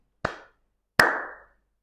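Two crisp, close hand claps in a quiet room, each sharp and followed by a short reverberant tail, spaced about three-quarters of a second apart.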